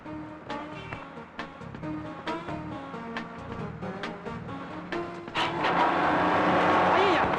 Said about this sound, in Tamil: என்ன வண்டி இப்படி வேகமா போகுது?